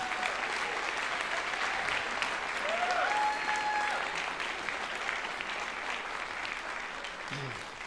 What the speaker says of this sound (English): So how about a huge round of applause for all three bands.